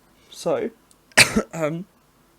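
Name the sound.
cough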